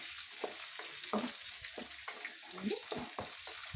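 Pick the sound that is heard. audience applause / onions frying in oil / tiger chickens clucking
onions frying in oil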